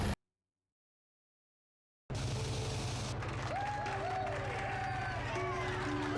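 A crowd in Star Wars: Knights of the Old Republic cheers and claps continuously after a couple of seconds of silence, with whistle-like tones rising above the steady roar.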